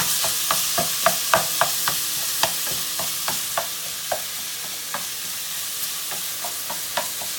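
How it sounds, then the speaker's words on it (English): Ground meat sizzling in a pan with a steady hiss, punctuated by regular clicks and scrapes of a utensil stirring and breaking it up. "I've just kind of let the meat start to get a little sizzle on it"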